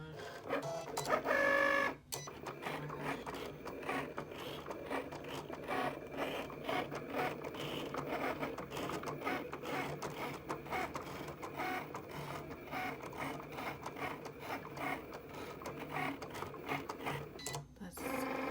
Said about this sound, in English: press the flashing go button on the machine